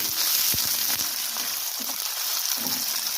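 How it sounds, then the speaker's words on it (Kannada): Long-sliced onions and chopped garlic fry in a pan for dill-leaf rice, giving a close, steady sizzle with a few soft stirring scrapes. "ಇವಾಗ ಇದನ್ನು ಈರುಳ್ಳಿ ಚೆನ್ನಾಗಿ ಫ್ರೈ ಆಗಬೇಕು"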